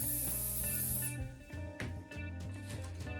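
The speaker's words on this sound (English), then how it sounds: "Quick spray." A short aerosol spray hisses over model trees for an OO9 narrow gauge railway layout, a close sharp burst lasting about a second before quieter rubbing and handling sounds.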